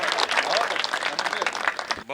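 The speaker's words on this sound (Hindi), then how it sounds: "सारे लोग तालियां बजा दीजिए जोरदार।" Enthusiastic audience applause at a Hindi kavi sammelan poetry recital, a brisk burst of clapping with some voices, cutting off near the end as a speaker's voice enters.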